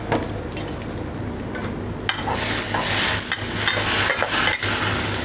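Mushrooms stir-fried with oyster sauce in a pan, sizzling loudly as a utensil scrapes and tosses them, with the frying growing stronger partway through.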